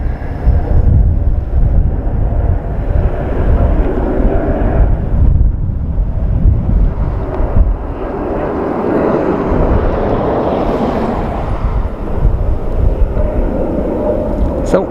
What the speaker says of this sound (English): American Airlines Dreamliner off to Philadelphia.